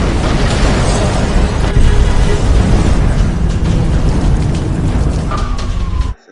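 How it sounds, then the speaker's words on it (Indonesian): A film bomb blast detonates at a bank, a dense, loud roaring boom that sustains with rumbling debris and noise for several seconds before cutting off abruptly. "Bom yang dipasang Ba Jinggu meledak."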